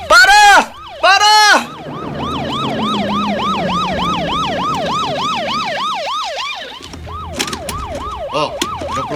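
A loud wailing police car siren sweeps up and down rapidly and steadily, close by, after two short blaring horn-like bursts, with traffic rumble underneath.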